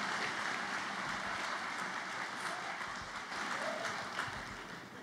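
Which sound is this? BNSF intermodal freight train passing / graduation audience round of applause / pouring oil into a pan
graduation audience round of applause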